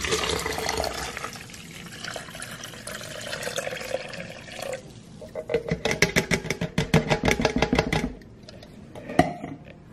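Liquid film fixer stirred at room temperature with a household spatula, giving continuous swishing and sloshing, then a run of rapid rhythmic scraping strokes in the second half, close and moderately loud, with no voices.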